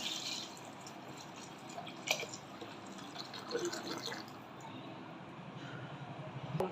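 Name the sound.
hot water poured into cooking pot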